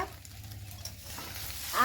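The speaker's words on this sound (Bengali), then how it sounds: "আর একটু ভাজা ভাজা করলে বন্ধুরা হয়ে যাবে ম্যাগি আমার" Maggi noodles frying in a pan with masala, giving a soft, steady sizzle with light stirring scrapes throughout. It is fairly quiet and close, with no talking.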